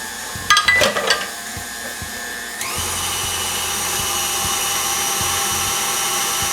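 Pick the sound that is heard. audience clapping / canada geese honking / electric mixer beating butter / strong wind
electric mixer beating butter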